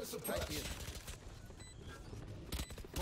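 Gunfire in the video game Valorant, bursts of rapid shots at the start and again near the end, with a quieter stretch of game noise between them.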